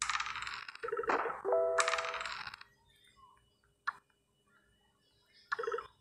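Dice clattering and rolling in the Parchís Star board game, a bright rattling tumble of clicks lasting about two seconds, followed by a lone faint tick and a brief second clatter.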